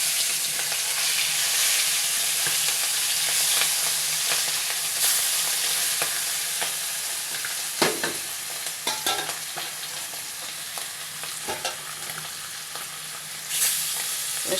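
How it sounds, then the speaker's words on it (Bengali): Hilsa fish fries in a pan with a steady, close crackling sizzle, occasional louder pops and stirring scrapes breaking through the constant hiss. "আর এদিকে আমার মাছ ভাজিটাও হয়ে আসছে"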